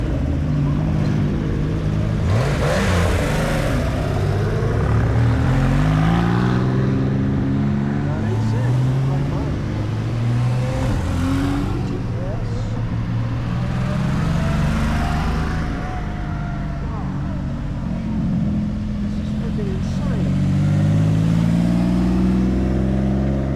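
A Porsche 4-liter engine revs and rumbles past during a Porsche parade in Eureka Springs, Arkansas, with several loud surging passes over a crowd's background murmur and voices talking.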